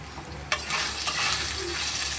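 A ginger and cumin paste is stirred in a hot frying pan while making a fish-head and ash gourd curry: steady sizzling with a sharp scrape of the spoon partway in, close and fairly quiet, no voices.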